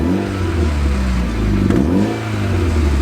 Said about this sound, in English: want to give you guys a cold start on how Josh's exhaust right now sounds